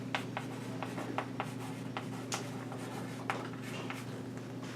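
Pen strokes on paper as an equation is written by hand, a series of short, crisp scratches and taps at an uneven rhythm over a low steady hum, close and fairly quiet.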